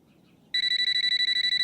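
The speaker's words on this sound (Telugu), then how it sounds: "నందిని, నందిని, వాడు మళ్ళీ ఫోన్ చేస్తాడమ్మా." A telephone rings in a Telugu comedy film scene. After a quiet moment, a shrill electronic trill starts abruptly and continues as steady, rapid, even pulses, loud and close, with no talking.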